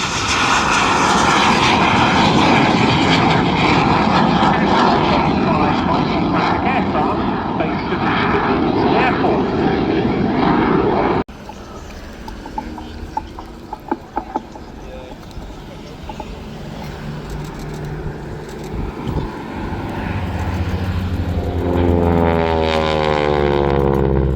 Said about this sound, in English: This is of course the Jet Provost. This one is a Jet Provost Mark 5.